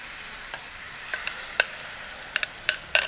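Faint sizzling with scattered sharp clicks and crackles from Alexandrian-style liver frying in a pan, stirred now and then, with no talking.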